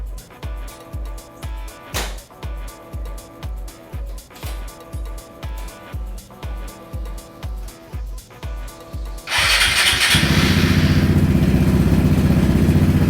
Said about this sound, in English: let's now run the scooter